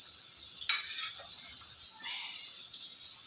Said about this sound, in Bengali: বেগুনটা ভাজা ভাজা হয়েছে একটু